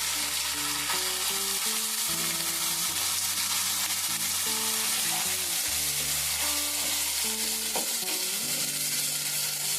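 Chana dal and onions frying in oil in a chicken masala curry give a loud, constant sizzle that lasts the whole stretch. Steady background music plays under it, and no one speaks.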